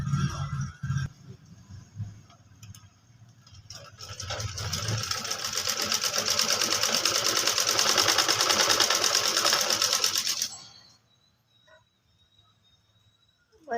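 A sewing machine stitches a kurti with a coat-style collar: a few soft starts, then a loud, steady, rapid whirring run that lasts about six seconds and stops abruptly, leaving a quiet room.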